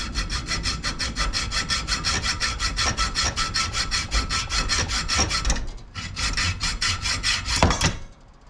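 A hand saw cuts a threaded rod to length in fast, even back-and-forth strokes, loud and close, slowing to a few final strokes and a sharp clatter as the piece comes free.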